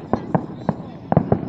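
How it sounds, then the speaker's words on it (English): Fireworks show with a series of sharp bursts popping in an uneven rhythm, two early, one alone, then a tight cluster of three, fairly close over a quiet background. "It's sparkly fireworks, isn't it?"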